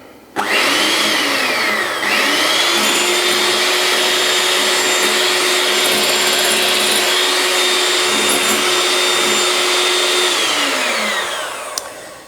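A steady, loud whine from an electric mixer whisking aquafaba as sugar is added a tablespoon at a time, running continuously with a slight pitch dip early on and winding down at the end.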